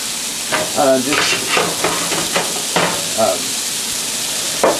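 Meatballs brown in a hot pan with a continuous close sizzle and a few utensil scrapes and clinks, while a voice speaks faintly beneath.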